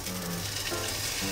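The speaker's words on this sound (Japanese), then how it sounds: "醤油をちょっと端っこに押しておいて、醤油を沸騰させていきます" Soy sauce sizzles and bubbles in a hot pan over high heat, pushed to the edge beside garlic steak rice, a loud, steady crackling hiss filling the whole moment.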